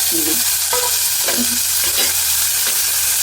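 Tomatoes and green chillies fry in a pan on a stovetop, with a spoon scraping and stirring them. Soft sizzling runs steadily underneath a few short clinks and scrapes, close and moderately loud, with nobody talking.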